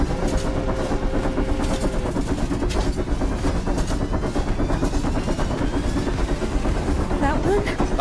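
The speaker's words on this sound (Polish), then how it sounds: "czy to jest nasz pociąg?" A train in the video game Indika rumbles steadily throughout with dense, continuous mechanical noise and faint rhythmic clatter, loud and close, with no pauses.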